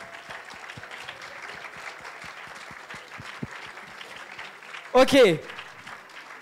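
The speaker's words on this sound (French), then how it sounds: "Et on peut les applaudir, les lauréats" Sparse, scattered clapping from an audience greeting prize winners at a Cannes award event, steady but thin and distant, with a brief loud burst near the end.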